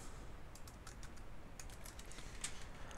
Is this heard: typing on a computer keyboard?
yes